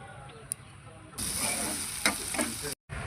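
Grated raw mango, curry leaves and turmeric being stirred in a pan, with a steady close sizzle and frying hiss after a quieter start and a few scraping strokes, ending in a brief silence.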